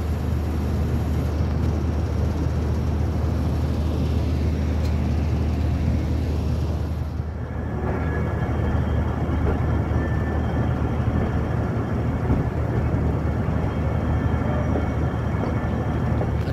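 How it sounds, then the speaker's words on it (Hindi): Passenger train rolling along the tracks between Quetta and Jacobabad, a steady loud rumble of wheels and carriage noise that runs continuously, briefly dipping midway before resuming at full strength. "ट्रेन स्टॉप होने के बाद अब फिर आगे की तरफ मूव होगी,"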